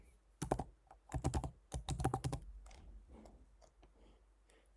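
Quick clattering bursts of computer keyboard typing while an email address is entered, three dense runs of keystrokes followed by a few scattered taps, close and fairly quiet.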